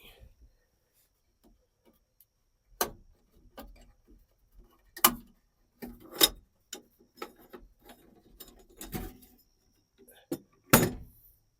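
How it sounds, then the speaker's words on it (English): A small metal door on a candle-powered stove built from an ammo box is opened with a few sharp clicks and clanks, surrounded by quieter knocks and handling noises, close and fairly faint. "let me open the door and show you this thing."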